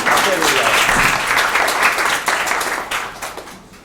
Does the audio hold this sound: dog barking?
no